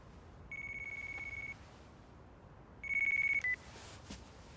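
A phone in the video game Yakuza Kiwami 2 rings in two clear electronic tone bursts about a second long each, separated by a short pause, fairly loud against a quiet background.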